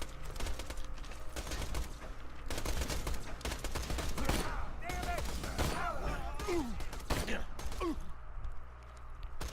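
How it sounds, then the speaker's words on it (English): Rapid gunfire from Borderlands 2 rattles in dense volleys across the whole stretch, sharp bursts layered with game effects and occasional rising whistles, loud and continuous with a brief drop near the end. "Gunshots."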